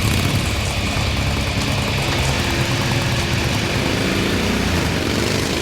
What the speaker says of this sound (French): L'équipe du célèbre motoriste Karl Morrow essaye la Harley avec son camion banc d'essai.